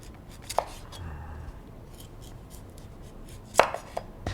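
A knife peeling a celery root on a board: sparse, close cutting clicks and scrapes, a couple of sharper knocks standing out against a quiet kitchen background.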